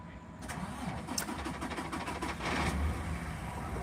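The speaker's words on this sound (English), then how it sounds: "very loud truck just started next to me, so hopefully it's not too loud." A loud truck engine cranks and starts close by at a free camping area at Burning Man, settling into a steady, heavy idle rumble that stays loud throughout.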